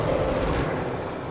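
An explosion aboard a China Airlines 120 airliner roars as a dense, sustained rumbling blast, loud and close, filling the moment with broad, heavy noise that slowly eases off.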